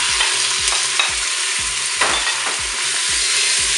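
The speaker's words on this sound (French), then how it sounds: "Et puis on fera revenir nos ingrédients quand l'huile sera chaude." Chicken browns in hot olive oil in a Cookeo multicooker, with a loud, steady sizzle and repeated rhythmic scraping strokes from stirring.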